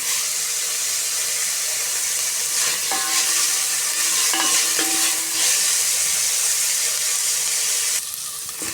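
Chopped onions sauté in a hot pan for a chickpea kara kuzhambu, giving a steady, close sizzle and hiss with a few brief stirring scrapes.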